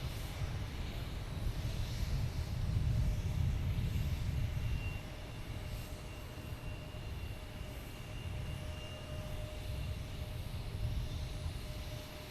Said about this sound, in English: We have a Porter coming in from Toronto.